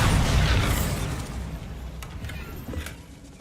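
A Bombarda spell goes off in the video game Hogwarts Legacy as a loud, rumbling explosion. The blast fades over a few seconds, with a few faint clicks and pops near the end.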